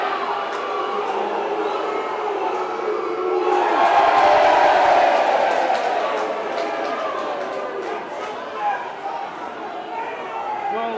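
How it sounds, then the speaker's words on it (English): Rugby league crowd at Bradford Bulls versus Barrow Raiders, a large stadium crowd swelling into a loud sustained roar that sounds like booing, peaking midway then settling into a steady murmur. "I don't know why the crowd are booing"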